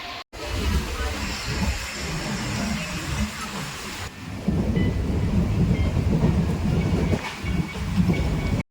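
A local train running on rails from Bongaon toward Ranaghat gives a steady, loud rumble and clatter throughout, growing heavier partway through, with no talk.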